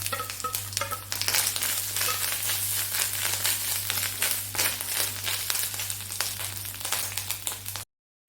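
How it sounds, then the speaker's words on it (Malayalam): Grated coconut sizzles and crackles in a hot pan, with scraping stirs and a steady low hum underneath; no talking. "അതിലേക്ക് നമുക്ക് ഈ നാളികേരം ഇട്ട് കൊടുക്കാം"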